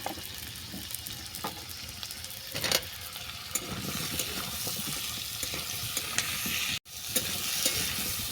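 Potato and taro fry with onion in a pan, giving a continuous close sizzle with stirring scrapes and clatter and a brief sharp dropout late on.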